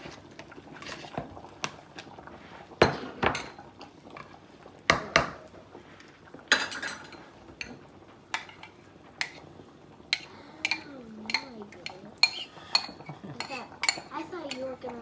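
Corn salad with chipotle lime dressing being tossed in a bowl: irregular clinks, taps and scrapes of utensils against the dish, close and moderately loud, with soft talk in between.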